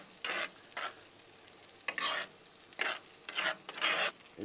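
A spoon stirring salt and pepper into a pan of onion gravy made for smothered fried pork chops, several separate scraping swishes in uneven bursts, quiet and close with no talk.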